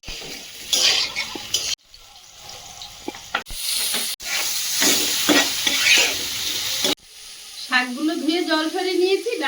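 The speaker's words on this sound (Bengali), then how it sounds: "লবণ হলুদ মিশিয়ে নিচ্ছি এই ধারে ফ্রাই প্যানে ভেজে নেবো" Stems or greens mixed with salt and turmeric sizzle in a frying pan, a loud, steady hiss broken by a few abrupt cuts, with a voice heard briefly near the end.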